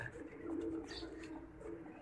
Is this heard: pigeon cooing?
yes